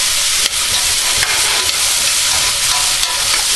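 Vegetables for almond chicken chow mein frying in a pan, giving a loud continuous sizzle with faint stirring scrapes, close by and without talk.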